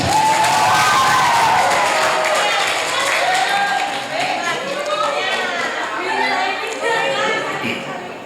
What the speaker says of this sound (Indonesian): kita kasih tepuk tangan biar semangat.